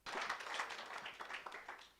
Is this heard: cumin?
no